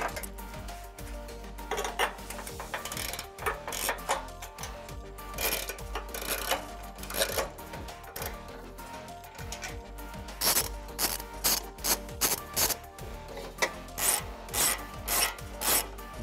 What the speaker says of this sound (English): You can now remove four factory flange nuts per side. Two are visible using a 15 millimeter socket and an extension.